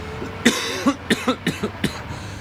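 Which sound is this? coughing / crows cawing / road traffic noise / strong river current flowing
coughing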